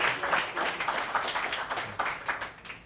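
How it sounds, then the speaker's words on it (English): Brief round of applause from a small audience for a colleague, rhythmic, fairly close clapping that rises and falls without any talk over it. "Everyone, please give a big round of applause to Mike."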